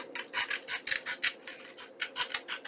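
Paper being trimmed for a junk journal gives a close series of short, rhythmic rasping strokes, roughly a dozen quick rubs in under three seconds, with no talking.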